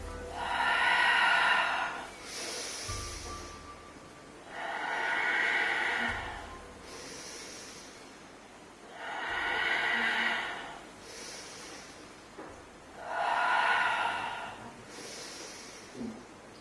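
Heavy breathing during a Pilates workout: four loud, deep exhalations spaced a few seconds apart, each followed by a quieter inhale, close and rhythmic, with no talk.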